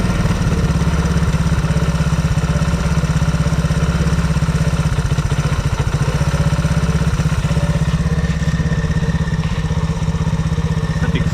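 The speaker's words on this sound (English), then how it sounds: "Well, that's awfully fast, but we'll see if we can turn the idle RPM down a little bit." Small engine on a restored machine idling too fast, a loud, steady, close putter with a rapid even beat that holds without pause throughout.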